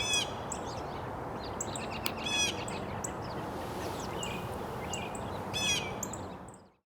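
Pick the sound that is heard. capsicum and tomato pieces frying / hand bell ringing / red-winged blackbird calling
red-winged blackbird calling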